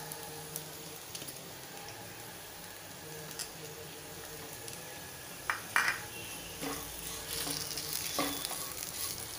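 Soft sizzling and frying in a hot pan as half-cooked sweet potato slices are stirred with jaggery, with occasional scrapes and taps of a spatula growing busier toward the end.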